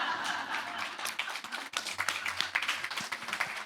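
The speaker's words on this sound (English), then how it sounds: "Please give a round of applause for Stephanie Dowrick, for Natasha, for Wendy, for Rosemary, and for Virginia." Audience applause closing a festival panel session on women and ageing: a dense, steady patter of many hands clapping at moderate volume, filling the short stretch with scattered sharper claps and a faint voice underneath.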